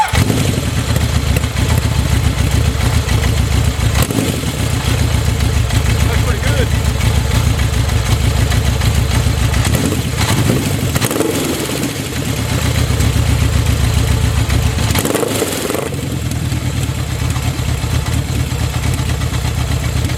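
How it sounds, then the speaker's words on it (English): A motorcycle engine runs fed from an IV bottle as a makeshift fuel supply, a loud close idle with a steady throbbing rumble and mechanical clatter, briefly revving and dipping a couple of times. "Now I've got the bike running on the IV bottle"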